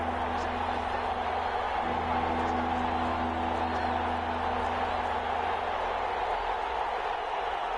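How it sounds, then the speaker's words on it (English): A football stadium crowd at a Packers game roars steadily ahead of a big third down, a dense, continuous wash of cheering and noise throughout, with no distinct break. "the crowd getting into it as we come up on a big third down"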